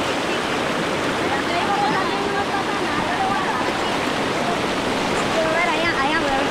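River water rushing at a chiflón, a continuous loud broadband roar of turbulent current, with faint voices audible underneath.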